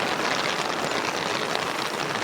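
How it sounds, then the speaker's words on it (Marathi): Heavy rain pours down on a rice paddy field during planting, a dense, steady broadband hiss that stays loud and unbroken throughout with no voices. "जोरदार पाऊस आलाय."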